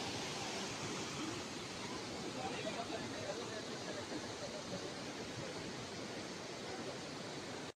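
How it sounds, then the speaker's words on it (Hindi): A mountain waterfall at Malam Jabba roars as a dense, steady rush of crashing water, loud and unbroken from start to finish, heard close by. "यहाँ से भी एक वाटरफॉल है, और ये वाटरफॉल यहाँ तक जा रहा है।"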